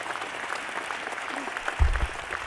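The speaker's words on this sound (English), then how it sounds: "Give yourself a round of applause for being here." Crowd applauding itself at Nebraska's introduction of football coach Matt Rhule, a continuous bed of clapping across a large room with a low thump near the end.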